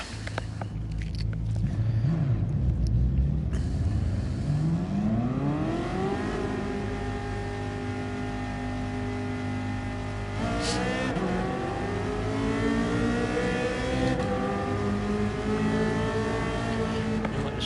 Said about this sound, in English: This is the Ferrari I did the night before, so we'll take it out for a quick spin.